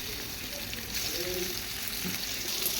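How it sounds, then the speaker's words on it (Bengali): Shrimp lightly frying in the same oil just used for potatoes and pointed gourd, giving a steady, close sizzling hiss with faint crackles throughout. "সেই একই তেলের মধ্যেই আমি চিংড়ি মাছগুলো একটু হালকা করে ভেজে নেব।"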